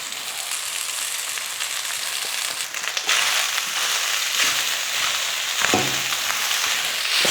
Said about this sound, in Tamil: இப்போ இந்த சாதத்தை போட்டு கலந்துக்கலாம்.